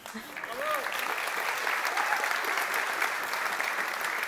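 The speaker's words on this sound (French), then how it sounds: "on peut applaudir aussi euh, les trois personnes qui," An audience at a national science-communication final applauds the three sign language interpreters, with steady, moderately loud clapping from a large hall that runs throughout and a faint voice briefly audible near the start.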